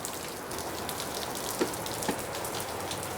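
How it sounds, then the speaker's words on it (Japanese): Steady rain falls outside an old Japanese country house, a dense even patter on surfaces with a couple of louder single drips, with no voices. "ほんと長雨だよね。"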